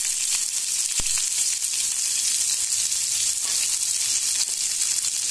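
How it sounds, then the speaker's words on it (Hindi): Onion sizzling in hot oil with mustard seeds gives a steady, bright hiss that holds at an even loudness throughout, broken by a single sharp tap. "प्याज डाल रहे हैं"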